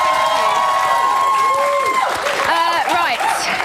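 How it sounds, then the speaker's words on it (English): Studio audience applauding and cheering on a live TV chat show set, a loud dense wash of clapping and crowd noise with a presenter's voice ringing out over it and shouts rising near the end. "give him a round of applause"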